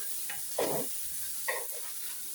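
Sliced onions frying gently in oil for spaghetti with tuna and onion, with a soft continuous sizzle and two brief scraping stirs of a spatula, faint and close.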